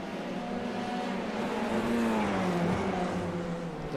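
Formula 3 race car engines at Oulton Park in the iRacing sim, a raspy, continuous high engine drone with pitch sweeping up and down as cars run the circuit, mid-distance and steady without talk.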